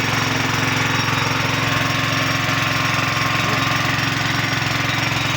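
Motor pump engine running steadily up close, a loud, even, rapid chugging drone with a fast mechanical pulse and no pauses.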